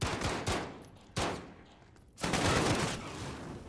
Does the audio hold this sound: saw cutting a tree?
no